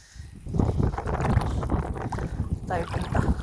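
Strong wind buffets the microphone on a boat out on the water during crabbing, a loud steady rumble throughout with people talking underneath.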